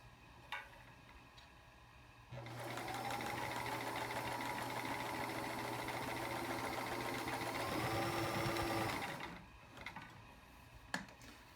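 A vintage Sears Kenmore 158.14300 heavy-duty sewing machine runs a straight stitch in one steady mechanical whir of about seven seconds, framed by a few quiet clicks before and after.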